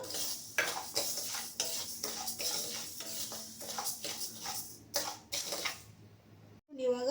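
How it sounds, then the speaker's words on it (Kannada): Flour being roasted on low heat in a pan, stirred with a spoon that scrapes and clinks against the metal in a steady rhythm, close and fairly loud, with a brief pause near the end. "ಹಿಟ್ಟು ಹುರಿತಾ ಇದ್ದೀನಿ"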